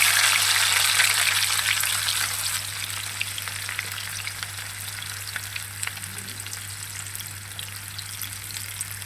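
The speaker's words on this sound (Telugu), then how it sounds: "ఉల్లిపాయలు అయితే వేసుకుంటున్నాము." Onions sizzle loudly in hot oil in a pot for a Telugu fish curry, a steady close frying hiss with scattered crackles that eases slightly over time.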